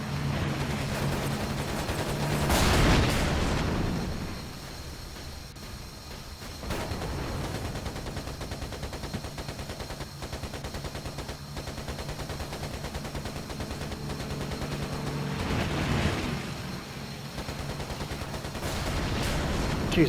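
Aircraft machine guns rattle almost nonstop at a BF-109 in Air Conflicts: Secret Wars, with loud swelling bursts over a constant roaring drone across the whole stretch.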